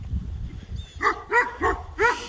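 Dogs kept back by an invisible fence bark outdoors, four or five sharp barks in quick succession at moderate distance, with no talking over them.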